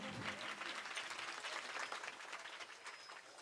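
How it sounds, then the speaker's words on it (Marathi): Audience at a Marathi kirtan devotional gathering applauding steadily, a dense, sustained wash of many hands clapping close by throughout, with no voices standing out. "टाळ्या वाजवा एकदा"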